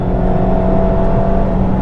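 A car accelerates hard onto the Castle Combe race circuit, engine at full throttle giving a steady, loud, close drone with a sustained tonal hum throughout.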